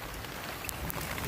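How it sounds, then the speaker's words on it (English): A big hailstorm during a thunderstorm makes a dense, steady roar of pelting ice on surfaces, loud and continuous, with a couple of sharper hits standing out and no voices. "But, big hailstorm."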